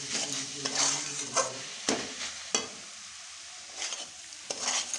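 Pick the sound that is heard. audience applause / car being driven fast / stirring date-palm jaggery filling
stirring date-palm jaggery filling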